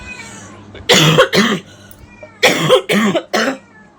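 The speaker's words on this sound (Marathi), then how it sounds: "असला खोकला आहे डेंजरमध्ये" A person coughs close to the microphone in two bursts: a pair of harsh coughs, a pause, then three more in quick succession.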